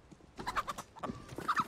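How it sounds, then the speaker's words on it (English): Chicken clucking in the video game CS:GO, a few soft, close clucks over faint game background noise, with no talk. "Guys, it is a chicken in A"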